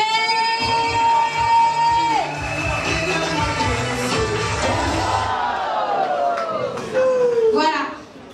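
Wedding guests at a religious ceremony raise a loud, continuous crowd noise of cheers, whoops and shouts, with high ululating and whistling tones layered over the mix and chatter throughout, swelling again near the end before dropping off.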